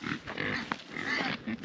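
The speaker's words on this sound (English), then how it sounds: "then we'll go feed the pigs." Pigs grunt and oink close by in a short burst of snuffling grunts, with a sharper squeal-like note in the middle.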